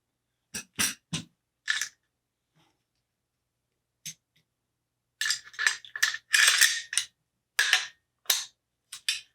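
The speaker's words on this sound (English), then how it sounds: "now it's time to reassemble the firearm" An AR15 rifle being put back together after a gas ring change, with sharp metallic clicks, snaps and taps in scattered bursts separated by quiet gaps, close up, with no voices.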